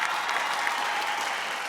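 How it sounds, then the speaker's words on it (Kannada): A studio audience at a Kannada comedy show gives the judges a short burst of dense, steady applause. "ಒಂದು ಚಪ್ಪಾಳೆ ನಮ್ಮ ಅಮೇಝಿಂಗ್ ಜಡ್ಜಸ್ಗೋಸ್ಕರ"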